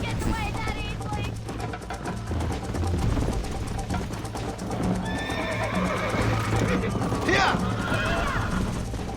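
A horse gallops and neighs loudly in Red Dead Redemption, with rapid hoof clip-clops throughout and sharp whinnies toward the end, while people talk over the ride.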